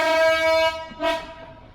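A passenger train on the Ella to Kandy line in Sri Lanka sounds its horn in one sustained, loud blast, then a shorter second toot that fades away.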